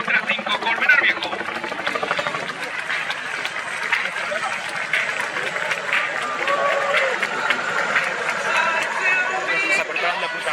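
An airshow crowd applauds a Spanish Army Boeing CH-47 Chinook helicopter, giving a dense, steady patter of clapping over a background rumble, with an announcer speaking over it.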